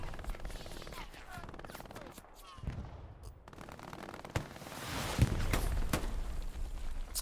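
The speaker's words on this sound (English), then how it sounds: "Pops some shots." Gunfire in the WWII shooter Hell Let Loose at Sainte-Mère-Église: a few sharp, separate shots crack out over a busy battlefield backdrop, with a louder burst near the end.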